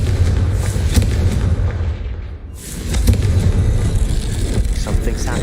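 The Confringo fire spell explodes in Hogwarts Legacy with a loud, rumbling boom, followed by a brief dip and then a second roaring blast of fiery noise, all dense and close.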